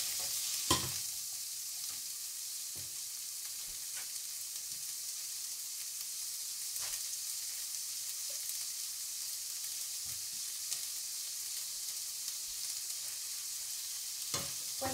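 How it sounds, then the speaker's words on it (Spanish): Onion frying in a hot skillet for chile pasado with dried beef, giving a steady broad sizzle throughout with occasional light clicks of stirring, close and even in level, with no talking. "voy a poner la cebolla. Ya se calentó el sartén."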